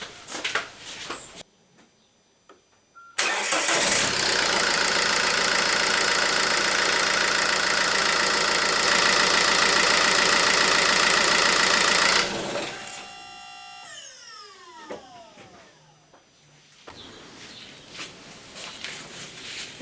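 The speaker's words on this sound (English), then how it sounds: "so we'll start her up and let it idle a minute" A car with an oil leak cranks and catches, then idles loudly and evenly for about nine seconds before the engine note drops and fades, with some handling noises around it.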